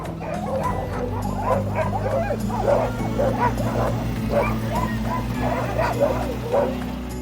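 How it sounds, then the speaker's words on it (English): A pack of sled dogs barks and yips excitedly and continuously before a run in Skagway, Alaska, many voices overlapping close by over a low rumbling background. "The dogs were so excited to take off."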